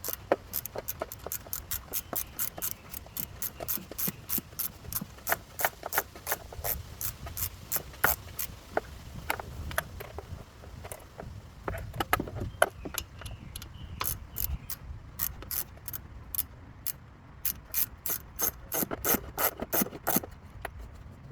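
A part on a TroyBilt Bronco tiller carburetor gets tightened with a ratchet, giving rapid, close, crisp clicking bursts in a steady repeating rhythm, fairly quiet with short pauses between runs.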